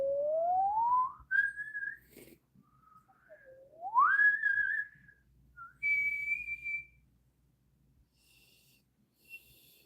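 A person whistles several separate notes, some sliding upward, with short pauses between them in an otherwise quiet room.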